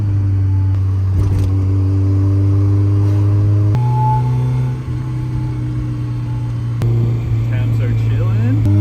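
A Mazda Miata with a limited-slip differential and stick shift, lowered in stance style, revs its engine steadily through donuts on a chilly day, a loud continuous drone with pitch shifts as the throttle changes.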